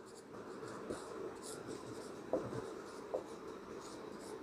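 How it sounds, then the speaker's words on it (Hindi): Pen writing by hand on paper during a class 12 physics lesson, a steady soft scratching with a few sharper strokes, close and quiet, with no talk. "अब देली आवृत्ति की हम परिभाषा लिखते हैं।"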